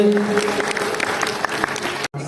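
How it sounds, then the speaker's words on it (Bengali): A crowd at a silver jubilee celebration of a computer centre breaks into loud, sustained clapping for an honoree, which cuts off abruptly near the end. "ঈশার জন্য একটা জোরে হাততালি"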